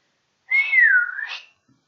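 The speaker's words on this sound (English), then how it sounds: "we'll have to whistle her back" A single human whistle, a rising-falling slide of about one second followed by a brief upturn, clear and close with no talk around it.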